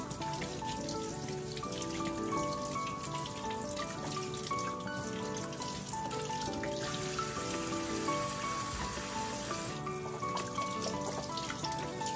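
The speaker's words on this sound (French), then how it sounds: "on lave très bien les poivrons" Bell peppers rinsed under running tap water, a steady trickle and splash continuing throughout at moderate volume, with light knocks from handling the vegetables.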